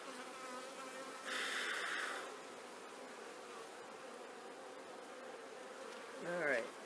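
Honey bees buzz steadily around an open hive during an inspection, a low droning hum throughout. Louder passes come when single bees fly close, one about a second in and another near the end.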